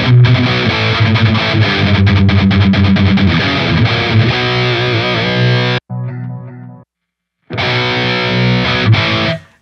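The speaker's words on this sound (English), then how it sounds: "I think the distortion pedal models on this are really awesome." Electric guitar played through a Line 6 Helix distortion pedal model, giving a loud, saturated, chugging tone with palm-muted riffing that stops briefly, then returns with thick, fuzzy sustained chords.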